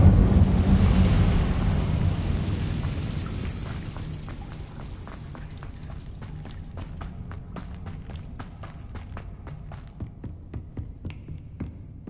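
The Incendio fire spell in the video game Hogwarts Legacy starts with a loud, deep whooshing roar that slowly fades into a crackling tail of rapid clicks and snaps.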